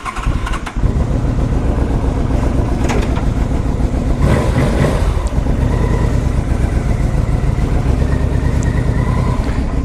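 A 2006 Yamaha Royal Star Deluxe's V4 engine runs steadily and loud throughout, with a smooth, even rumble and a few brief revs, close to the listener.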